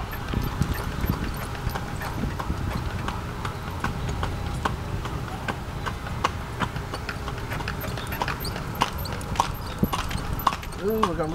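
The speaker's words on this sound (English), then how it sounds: "We're riding in a carriage with a horse." A horse pulls a carriage, its hooves clip-clopping in a steady, brisk rhythm close by while people chatter over the moving ride.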